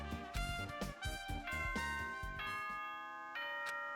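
Announcement chime from the video game Danganronpa 2: Goodbye Despair, a loud, bright sequence of bell-like ding-dong tones ringing out one after another and then fading into a sustained resonant tail, alone without speech.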